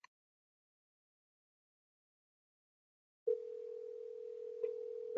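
During a test call to extension 1001, a steady, single-pitch telephone tone begins after a few seconds of silence and continues at moderate volume with slight interruptions.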